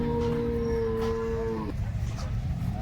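Cow at the Loni cattle market in Maharashtra giving a single long, loud moo lasting over a second, close by, followed by general market background noise.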